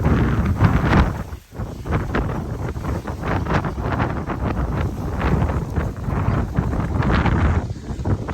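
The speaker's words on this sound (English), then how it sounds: "It's that windy." Gusty wind at Virginia Beach roars across the microphone in loud, uneven buffets that surge and briefly drop, with the sea faintly underneath and no voices.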